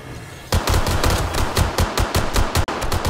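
Automated turrets in 7 Days to Die spraying machine-gun fire in rapid, close bursts of sharp cracks, loud and with no voices over them.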